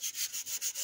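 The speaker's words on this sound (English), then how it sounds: "sanding the coating off of this knife tang" Sandpaper rubs the coating off a steel knife tang in quick back-and-forth strokes, a close, rhythmic gritty scratching of about seven short passes that stands alone.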